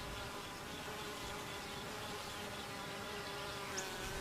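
Steady insect buzzing fills the recording, a dense continuous drone of many honeybees close by, around comb cells, with no pauses.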